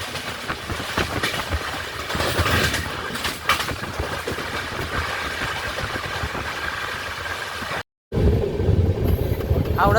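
Balurghat–Kolkata Tebhaga Express crossing alongside on the route out of Howrah, a loud continuous rush of carriages with rhythmic clickety-clack and engine drone, close by, broken by a brief dropout near the end.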